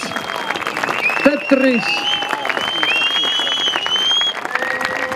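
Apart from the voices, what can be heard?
applause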